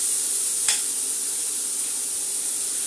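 Pork chop stir-fry with peppers sizzling steadily in a pan, a constant bright hiss with one brief scrape of stirring early on, close and alone without voices.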